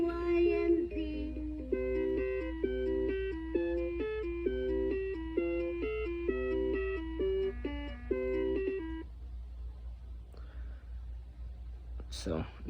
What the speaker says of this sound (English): when it's setting idle, it will play the ABC song without you having to turn the wheel